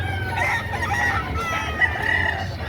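Chickens at a livestock auction market cluck and crow close by in a short, busy burst of fowl sounds, with no talking.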